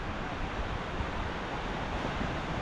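Sea waves and wind roll in at a beach, a constant broad wash of surf and gusty air buffeting the microphone, steady and moderately loud with no talking.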